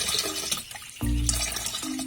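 Water pours into the tank of a manual knapsack sprayer, starting abruptly after a brief lull as a steady, close gushing fill that runs on without any talk.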